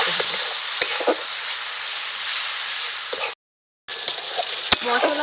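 Spice paste for bata fish tel jhal fries in oil with a splash of water, hissing loudly as a spoon scrapes through it in a few sharp strokes, cut by a short silent gap.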